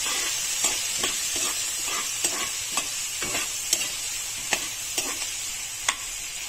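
Green chili paste frying in a pan as it is stirred, a steady sizzle with regular scrapes of the spoon, close and alone.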